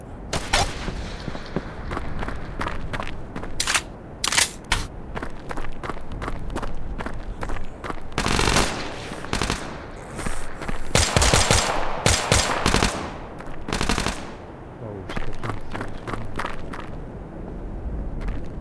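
Gunfire in the VR shooter Tactical Assault VR during a two-player co-op match: sharp shots and rapid bursts crack out over a busy bed of footsteps and movement, with a few denser volleys in the middle.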